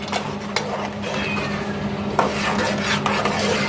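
Steady scraping and stirring of semolina roasting in a pan over medium heat, with light metallic clinks and a soft dry rustle throughout, close by.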